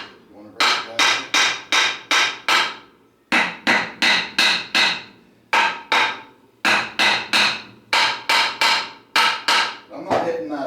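Light hammer taps on the tail housing of a Tremec T5 transmission to break the gasket loose, struck in quick bursts of four to five sharp metallic blows separated by short pauses, close and clear.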